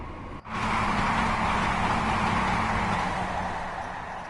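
A High Speed Train runs in the Train Sim World 5 game, giving a loud, steady engine roar and rumble that surges in after a brief gap and holds, easing slightly toward the end.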